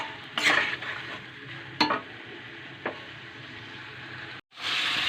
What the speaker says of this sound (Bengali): এই যে আমি আলুটা দিয়ে এবার ভালো করে কষিয়ে নিচ্ছি।